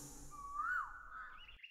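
A single bird gives a soft rising and falling whistled note at moderate distance in a calm morning meadow setting, followed by a brief fainter chirp before the sound cuts off.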